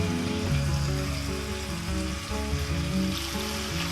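Dilkhush chicken frying in a pan gives a steady, close sizzle and crackle that runs unbroken for several seconds, with faint tonal background music underneath.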